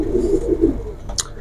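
A pair of banky kabootar pigeons coo in low, throaty pulses close by, a few rolling notes followed by a short sharper call near the end.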